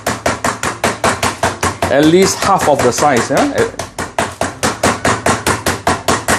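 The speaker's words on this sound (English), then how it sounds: "you need to hammer it until it is flattened" Steady, rapid thuds of a meat mallet pounding pork flat on a board, loud and close, continuing under a person talking partway through.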